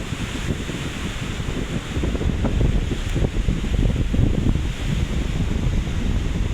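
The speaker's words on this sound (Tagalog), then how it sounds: "sobrang lakas ng hangin" Strong, continuous wind roars and buffets the microphone outdoors at a beach resort, with surf rumbling beneath it throughout.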